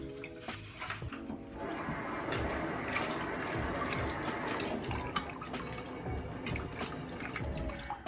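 A stovetop drip pan soaks and is scrubbed in hot soapy water in a sink, with steady splashing, trickling and running water throughout and no voices.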